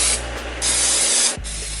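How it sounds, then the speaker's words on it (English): Pam cooking spray hisses onto chopped potatoes and sweet potatoes in two long, loud bursts separated by short pauses, close to the listener. "We're going to spray with some Pam inside of here."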